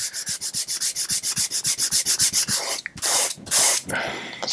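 Steady back-and-forth strokes of sandpaper rasp along the wooden neck of a DIY guitar kit, loud and close in an even rhythm, then break into a few longer, rougher scrubbing passes.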